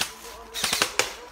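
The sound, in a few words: airsoft guns firing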